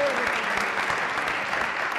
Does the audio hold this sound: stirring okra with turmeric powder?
no